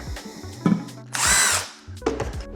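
A power tool spins out the last bolt on a Ford Cobra differential cover, giving short loud whirring bursts around a sustained high buzzing run, close up with no voices.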